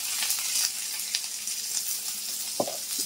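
Pointed gourd pieces seasoned with salt and turmeric fry in oil in a pan, giving a steady close sizzle with light crackles and a soft stirring knock near the end.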